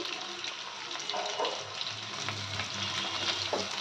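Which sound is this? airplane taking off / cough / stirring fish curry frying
stirring fish curry frying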